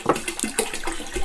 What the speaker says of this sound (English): And add some more water here.